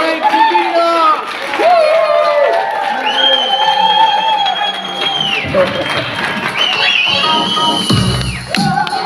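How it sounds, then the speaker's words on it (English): Large summit audience at a business presentation cheering and applauding loudly, a dense sustained crowd roar with shouts and a hosting voice rising over it throughout. "Big applause for my business partner, my friend, Mr. Frank Divina."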